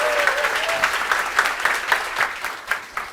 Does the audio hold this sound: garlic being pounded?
no